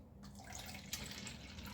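Water is poured into dye jars, a quiet, steady trickle and splash that runs continuously for under two seconds.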